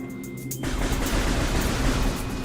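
Arm cannon fire in the video game Metroid Prime Remastered: after a quiet moment, a sudden dense, sustained blast of rapid shots fills the rest of the clip loudly and evenly.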